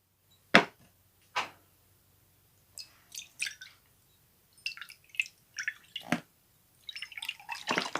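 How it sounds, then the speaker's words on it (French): Water, thirty centilitres, poured into beignet batter made with a cracked egg and a pinch of salt, heard as a series of splashy drips, taps and gurgles, intermittent and close, with no talking. "On va mettre nos 30 centilitres d'eau."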